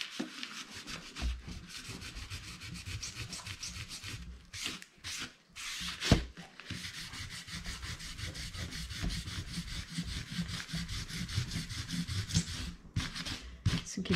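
Firm, steady rubbing of glued paper by hand while building a beginner's scrapbook album, a continuous close scraping friction with short pauses and one sharper bump, alone without talk.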